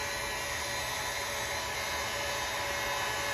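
A heat gun blows steadily while a graphics kit is applied to a Honda 110F dirt bike, a constant broadband rushing hiss with a faint whine, even and close throughout with no talk.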